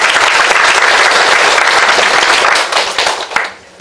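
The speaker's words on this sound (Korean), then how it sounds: "우리 네 분한테 박수 한번 부탁드립니다." A seated audience at a community gathering claps in a loud, dense burst that holds steady for a few seconds, then tapers off and fades quickly at the end.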